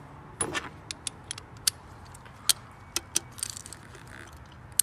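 Ratchet tightening a spark plug on a 2013 Ford Fusion, with a quick run of light metallic clicks, some clustered and some spaced, close and quiet with no talk.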